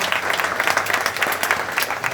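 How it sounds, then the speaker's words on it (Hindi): An audience applauds to welcome the chief guest at a World Health Day event on maternal and newborn health, a dense, steady wash of clapping filling the room from start to finish. "आप सबसे निवेदन है कि प्लीज़ तालियों से इनका स्वागत करिए।"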